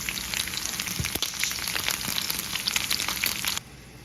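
Chicken gizzards fry in hot oil with a steady, close crackling sizzle and scattered pops that carry on evenly, then drop abruptly to a quieter hiss near the end.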